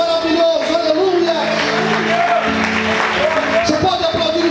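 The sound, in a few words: church congregation applause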